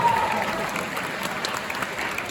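A theater audience claps and cheers, steady dense applause filling the room throughout.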